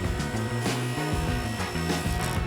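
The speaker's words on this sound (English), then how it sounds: "now we are cross-cutting the 1/8 inch piece so it fits the larger piece we just cut." A table saw cross-cuts a thin 1/8 inch wood piece, its motor holding a loud, steady whine while the blade bites briefly into the wood, heard up close.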